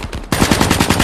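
Rapid automatic gunfire in the video game Call of Duty: Black Ops III bursts in loudly after a short quieter lead-in, a fast string of close, punchy shots filling the rest of the second.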